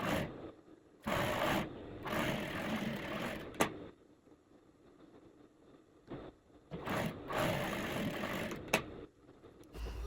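A sewing machine stitches a quarter-inch seam on a sleeveless blazer in two runs of rapid mechanical whirring, each a few seconds long, separated by quiet pauses with small clicks and fabric handling.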